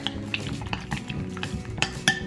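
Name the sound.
stirring melted coconut oil for chocolate topping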